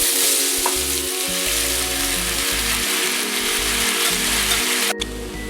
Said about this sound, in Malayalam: ലോ ഫ്ലെയിമിൽ ഒരു 10 മിനിറ്റോളം ഉലർത്തിക്കൊണ്ടിരിക്കുക